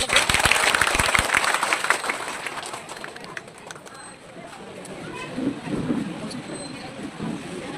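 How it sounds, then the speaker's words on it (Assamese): Audience applause at a farewell ceremony, loud clapping at first that thins and fades after a few seconds into murmuring and scattered noise. "জোৰদাৰ হাত চাপৰি দিয়ক।"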